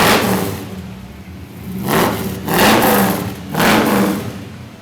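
A fuel-injected Ramjet V8 in a restored 1955 Chevrolet Bel Air revs hard three times, each swell rising and falling over a steady idle rumble, loud and close with no talking.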